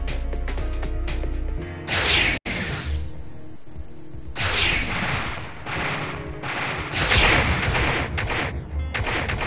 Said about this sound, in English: They're firing at long range.